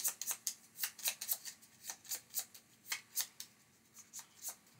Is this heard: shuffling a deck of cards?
yes